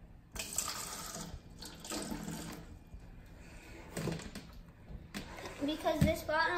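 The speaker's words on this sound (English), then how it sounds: "Let's pour some water in." Mineral water from a large bottle of Devin Natural Mineral Water from Bulgaria is poured into a small test cup, a steady trickling splash that fills the clip close up, with faint child-like voices in the background.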